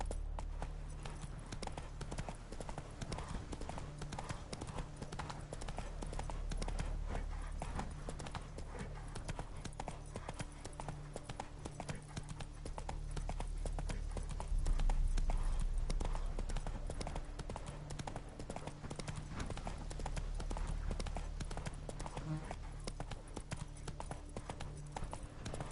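A horse gallops in the Witcher 3 video game, its hooves clip-clopping in a steady, fast, continuous rhythm over a low rumbling background, with occasional faint whinnies.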